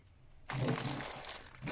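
A plastic bag from an online-shopping haul of diamond painting supplies crinkles loudly and close by, a sudden burst of rustling that continues steadily for over a second.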